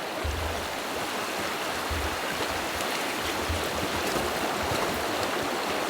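Continuous rushing water of a nearby stream, a steady full hiss with low gurgling underneath, heard alone without talk.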